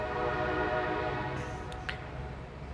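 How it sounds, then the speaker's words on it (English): A train passes nearby, its steady low rumble and sustained horn tones holding loud and even throughout with no talking. "we're gonna maybe get another blow or two of the train"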